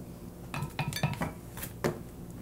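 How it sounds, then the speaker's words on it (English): Instant yeast mixture stirred in a bowl with a utensil, giving a few close clinks and scrapes against the dish in an irregular rhythm, with no talking. "And now we'll do our yeast. I'm going to mix it."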